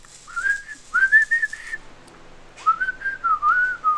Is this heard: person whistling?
yes